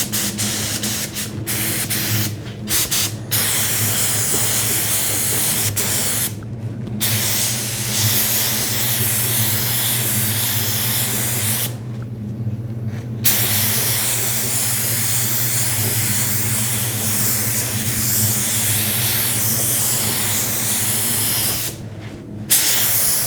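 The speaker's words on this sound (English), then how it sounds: "we got the final coat of paint going on right now" A spray gun lays the final coat of lacquer-type cabinet paint, a steady loud hissing spray running nearly continuously with several brief pauses where the trigger is released.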